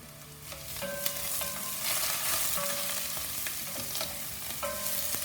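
Onions, ginger and garlic sizzle in butter in a pan, with a steady close frying hiss broken by scattered clinks and scrapes of stirring, and no voices.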